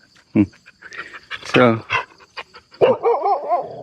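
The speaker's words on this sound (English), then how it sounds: "hi doggy, how are you? Yeah, no need to be angry." A dog barks and pants close by, with sharp yaps between breathy pants, while a person talks over it.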